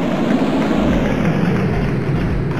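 A steady, loud rush of aeroplane engine noise from a children's cartoon fills the short clip, with a low rumble that holds without a break.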